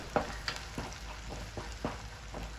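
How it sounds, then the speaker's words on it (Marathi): Agri-style masala for a fish curry sautés in oil, a soft sizzle broken by a series of regular stirring scrapes about every third of a second, close and fairly quiet. "आता हा मसाला आपल्याला तेलावर छान असा परतवून घ्यायचा आहे"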